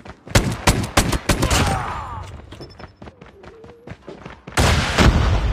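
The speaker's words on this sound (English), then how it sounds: "Now I am going to shoot him." Rapid gunfire bursts from the Call of Duty Mobile video game: sharp repeated shots in quick clusters, a quieter stretch with scattered pops, then a loud dense volley at the end.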